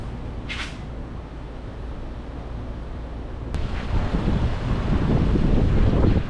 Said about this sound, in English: I'm not sure if you guys can hear me, it's quite windy